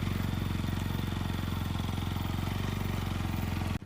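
A motorcycle engine runs steadily with a rapid, even putter, close and continuous until it cuts off at the end.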